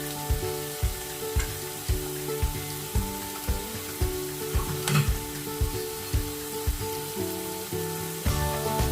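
Chicken sausage sizzles steadily in a pan before cream goes in, a constant frying hiss broken by repeated clicking stirs and scrapes of a utensil, close and alone.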